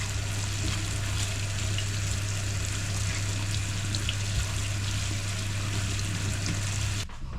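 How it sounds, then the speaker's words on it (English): Spring onions are rinsed under a steady stream of running tap water from fresh kitchen-garden produce, a continuous broadband splashing and hiss at close range with no talking, ending abruptly as the flow stops. "wash these onions because I'm going to use them to cook today"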